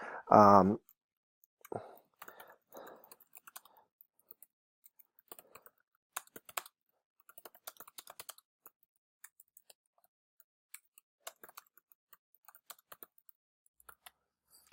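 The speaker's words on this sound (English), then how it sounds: "sorry about my typing." A brief voice speaks at the start, then sparse, irregular keyboard taps click quietly for the rest, with uneven gaps between keystrokes.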